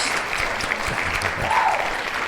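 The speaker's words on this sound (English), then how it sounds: "Let's do a round of applause for me." A short burst of clapping from a small group, brisk and close.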